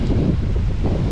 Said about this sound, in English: Nice and windy by this water too, if y'all can hear me, right?